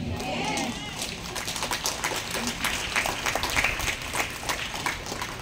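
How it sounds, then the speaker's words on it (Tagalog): A church congregation clapping at a service, a busy patter of many hands under voices and crowd noise, with a spoken voice audible at the start. "Parang yung palakpak nyo merong ibig sabihin."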